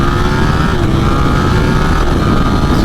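A motorcycle with a Supermoto-like feel accelerating hard on an out-of-town road, its engine note loud, close and steady throughout with continuous wind and road roar.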